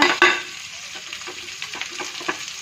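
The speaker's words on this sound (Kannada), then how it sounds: "ಇವಾಗ ಫ್ರೈ ಮಾಡೋಣ ಇದನ್ನು" Onion, green chilli, curry leaves, mustard seeds and cumin seeds frying in hot oil for avalakki, a steady close sizzle broken by a sharp stir at the start and soft scraping strokes.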